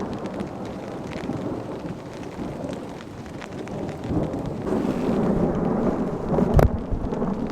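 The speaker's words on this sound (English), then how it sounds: "Big old lightning crack." During a heavy rainstorm at a campsite, thunder rumbles and builds over steady rain and gusty wind buffeting the microphone, ending in a sharp, loud lightning crack near the end.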